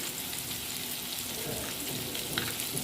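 Brinjal slices frying in a pan give off a steady, even sizzle that holds without pause for a few seconds.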